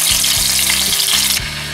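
Salted chicken breast fries under a lid in a pan, giving a loud, steady sizzle and hiss with a faint low hum underneath, cutting off sharply near the end; no talking.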